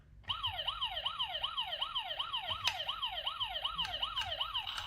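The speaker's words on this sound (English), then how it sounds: "if you want sirens, you can use sirens as well" A toy car's electronic siren wails in a fast, regular rising-and-falling sweep, steady and close from just after the start to the end, with a few faint clicks along the way.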